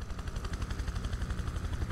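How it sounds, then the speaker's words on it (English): A helicopter flies in the video game Prototype 2, its rotor pulsing in a rapid, even chop at moderate distance with a faint rumble underneath, and no talking. "are they flying battle helicopters and I'm flying a normal one?"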